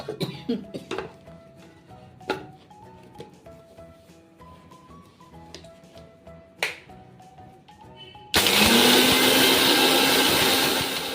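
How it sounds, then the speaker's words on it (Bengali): Kitchen mixer grinder crushing roasted spices in its jar, bursting into a loud, steady whirring grind near the end, preceded by scattered clicks, taps and handling noises. "এবার মিক্সির জারে এটা ঢেলে আমি গুঁড়িয়ে নেব"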